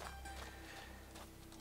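Horse hooves clip-clop in the Two Worlds 2 video game, a quick, steady trot of hoofbeats running close and fairly loud over continuous in-game background sound for a moment.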